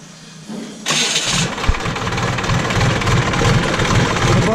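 A JCB backhoe loader's diesel engine starts after a quiet moment, cranking into a loud, rough, knocking idle that runs steadily up close.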